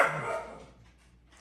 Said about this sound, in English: Yes, I have dogs, which is why I don't often shoot videos at the kitchen table